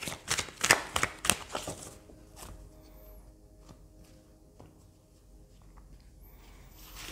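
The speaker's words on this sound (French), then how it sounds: "je vais prendre encore quelques cartes" Playing cards being shuffled, with a quick burst of crisp riffling flutters early on, followed by softer handling and quiet room sound.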